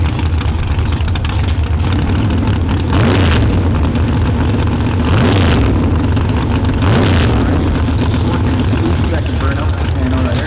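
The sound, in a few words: drag race car burnout, big block Chevrolet with nitrous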